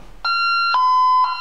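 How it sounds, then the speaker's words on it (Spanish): A Honeywell security alarm panel sounds as a zone is opened. It gives loud, steady electronic tones in three sustained steps, the pitch dropping after the first, with no talk over it. "Ahora vamos a conectar la alarma. 1, 2, 3, 4 y 2. Ya está conectada la alarma."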